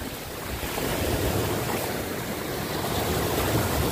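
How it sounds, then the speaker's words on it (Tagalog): Continuous wash of sea waves breaking on the shore, with wind noise over the microphone and no talking. "Kaya nagtampish ako sa dagat. And it's so wavy."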